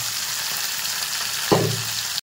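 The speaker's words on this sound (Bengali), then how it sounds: "এদিকে মাছ ভাজা হচ্ছে, মা মাছ ভাজা চলছে একদম কত সুন্দর।" Fish frying in a pan gives a continuous close sizzle, with a brief clatter or stir about two-thirds of the way through before the sound stops abruptly.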